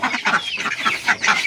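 Domestic ducks on a farm with chickens honk and quack in quick, overlapping bursts, close by, with no talking.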